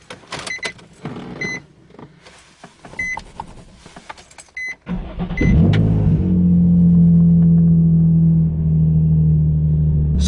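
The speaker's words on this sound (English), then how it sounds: "So I'll go ahead and turn the car on and see if the light turns on." Nissan 350Z in a parked setting: several short electronic beeps and clicks, then the engine cranks and catches, settling into a steady, loud idle rumble that continues to the end.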